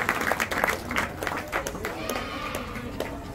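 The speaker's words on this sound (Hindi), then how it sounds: "तालियां बजा दो।" An audience claps at a religious gathering, a brief irregular round of applause with individual claps audible amid crowd noise and some voices.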